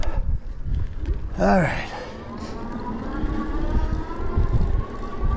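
Wind buffets the microphone in a steady low roar while riding a Revi Rebel 2 electric bike outdoors, with a brief spoken word partway through.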